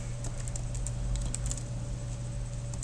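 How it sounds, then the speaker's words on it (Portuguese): Soft, quick keystrokes on a computer keyboard, a light irregular patter of close taps over a steady low hum, with no one talking. "Vou digitar esse aqui."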